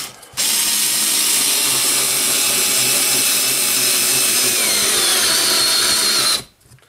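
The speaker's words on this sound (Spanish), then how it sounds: "lo atornilla, de hecho lo he introducido más en la madera" A Xiaomi 3.6V LiPo cordless electric screwdriver drives a screw into wood with a loud, steady whirring buzz. The whir runs unbroken for about six seconds, then stops abruptly.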